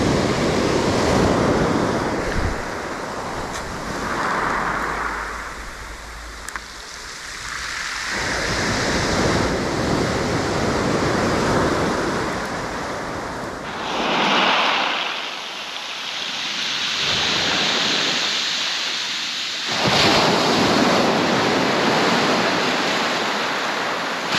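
Ocean waves rolling onto a beach at night, loud and close, with repeated surges and washes of surf mixed with wind buffeting the microphone.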